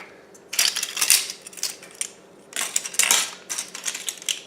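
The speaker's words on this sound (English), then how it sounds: "We're just going to whisk this together." A whisk clatters against a bowl while cake batter with baking soda, vinegar and vanilla is mixed for a chocolate cake, bright rapid metallic scraping in two bursts separated by a brief pause.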